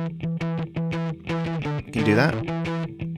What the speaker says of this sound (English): If you want more distortion on the tail,